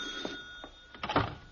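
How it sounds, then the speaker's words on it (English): Telephone bell ringing at night in an old-time radio comedy, with several short rings building to a louder burst and no voices over it. "Spend the whole night trying to fall asleep, and then the phone has to ring."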